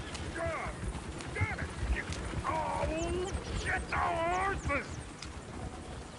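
Horses pulling a coach in the video game Red Dead Redemption 2, with steady clip-clop hoofbeats under noisy ambience and several short whinnies and snorts scattered through.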